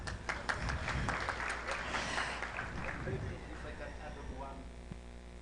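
Audience applause at a panel discussion on the creative economy, a burst of scattered clapping that is loud at first and thins out, mixed with room hum.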